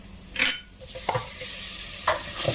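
Chicken pieces go into a pot of lugaw with malunggay, giving a few short clunks and stirring scrapes over a soft sizzle, close by and fairly quiet.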